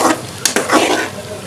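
Chopped onions soften in a hot pan for black pepper chicken, a steady close sizzle broken by a couple of quick spatula scrapes and clinks.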